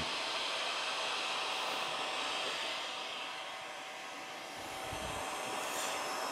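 A heat tool blows a steady, faint rushing airflow onto laser-safe acrylic sheet being heated until it bends, with a slight dip in level midway and no talk.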